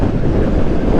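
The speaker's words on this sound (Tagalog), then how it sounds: "Malakas ang hangin ngayon" Steady broadband wind roar buffeting the microphone while riding a Bristol Classic 400 motorcycle, loud and continuous throughout with no voices.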